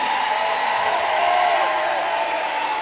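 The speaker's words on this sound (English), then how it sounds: "y'all stand up and give her a round of applause" A crowd at a Charleston rally supporting Kamala Harris's run for president applauds and cheers in a steady, dense roar that holds at an even loudness throughout.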